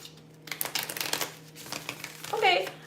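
Tarot cards being shuffled by hand, a soft papery riffle building toward a louder crisp burst near the end, with a steady low hum underneath and brief voice sounds.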